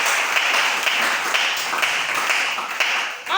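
A church congregation applauding the Lord during a sermon: steady, dense clapping from many hands, continuous and fairly loud, with no distinct voices above it.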